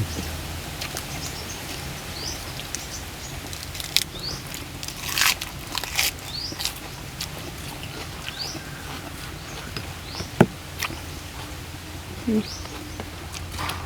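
Someone close to the microphone crunches while eating a spicy Thai chicken feet salad with lead tree seeds and fermented fish sauce. Sharp bites and crackles come irregularly over a faint background hum.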